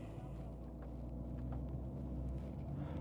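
Dodge Demon 170 accelerating down a private runway, a steady deep engine rumble that holds strong and continuous throughout, fairly close and with no talking over it.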